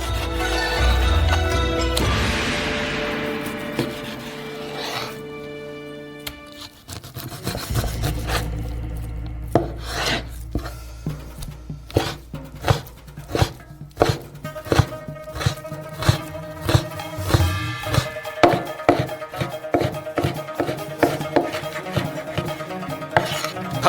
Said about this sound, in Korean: 돼지고기도 똑같이 잘라주세요.